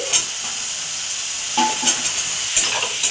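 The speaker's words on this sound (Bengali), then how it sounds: "মশলাটা কষা হয়ে গেছে আলুগুলো দিয়ে দিচ্ছি" Potatoes being stirred into a sizzling fried spice masala in a pan, with a continuous hiss of frying broken by scraping stir strokes, heard close with no talking.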